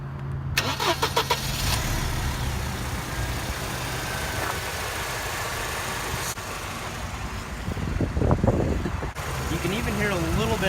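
A 2000 Mercedes SLK230 with a 2.3-liter supercharged four-cylinder cranks and catches, then settles into a steady close idle with a few small revs, a voice speaking briefly over it.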